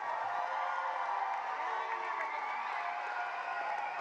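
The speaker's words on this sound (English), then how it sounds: "Let's give our graduates another round of applause" Sustained applause and cheering from an audience honoring graduates at a Class of 2024 school graduation ceremony, a steady dense wash of clapping that stays loud for the whole stretch.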